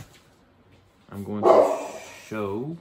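A pet dog indoors barking loudly and close, a burst of yelping barks followed by another bark, while someone talks over the start.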